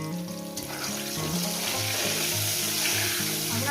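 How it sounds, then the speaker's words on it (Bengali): Potatoes fry with turmeric powder for a chicken curry, giving a loud, dense, continuous sizzle close up, with a faint low musical tone running underneath. "আলুটা সুন্দর করে লাল লাল করে ভেজে যাবে"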